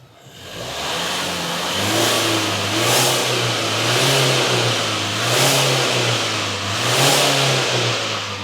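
A Nissan diesel engine, being cleared of DPF faults, revs up and down in several repeated swells, pitch rising and falling under a steady close-up roar, with no talk.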